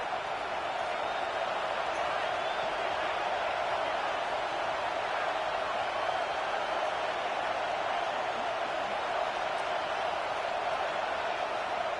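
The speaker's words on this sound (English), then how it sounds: "This crowd bringing the energy and noise early." A football stadium crowd keeps up a dense, steady roar of cheering and noise throughout, constant and broad with no clear breaks.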